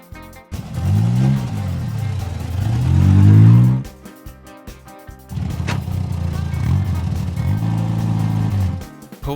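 An animated oil tank truck's engine revs up twice in long, rising and falling roars, dropping to a quiet pause between the two runs, loud and close with no talking.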